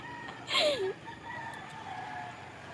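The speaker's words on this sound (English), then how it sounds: "Oh, I want to kill the rooster." A rooster crows once, a single loud, close crow lasting about half a second with a falling tail, followed by faint background ambience.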